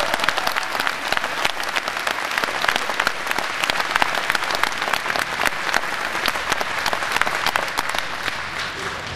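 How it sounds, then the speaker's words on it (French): A crowd at a French solidarity rally for SBFM workers applauds steadily and densely, a loud, sustained wash of many hands clapping that holds evenly before easing slightly at the end. "C'est gentil d'applaudir"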